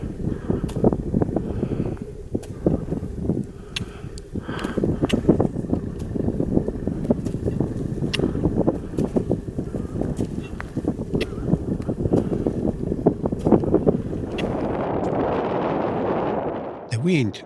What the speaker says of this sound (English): The wind doesn't make climbing any easier.